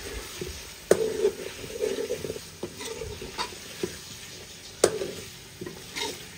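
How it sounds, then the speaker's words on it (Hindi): Meat cooks for Eid in a pot, sizzling steadily at low volume while a utensil stirs and scrapes against the pot with a few sharp knocks, close by. "इधर जी माशाल्लाह गोश्त बन रहा है"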